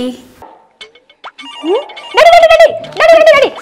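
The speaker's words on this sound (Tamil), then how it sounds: "ஃபோன் வருது டாடி" A mobile phone rings with an incoming call in a Tamil family comedy sketch, giving loud melodic ringtone bursts in the second half after brief scattered voice-like sounds.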